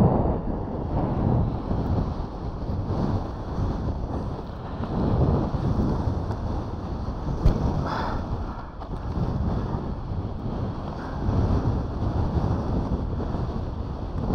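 Strong, steady wind roars across the microphone during wing foiling on water in extreme cold with horizontal snow, a continuous loud buffeting rumble with gusty swells and no speech.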